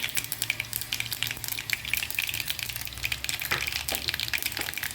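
Cumin seeds and asafoetida sizzling in hot oil for a drumstick leaves stir-fry, a bright continuous crackling fizz close to the pan with light spattering pops.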